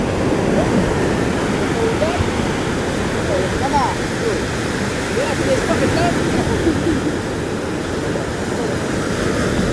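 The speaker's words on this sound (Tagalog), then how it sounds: "Guys, ganyan ang alon." Steady, loud roar of surf with continuous churning wash, no distinct breaks between waves.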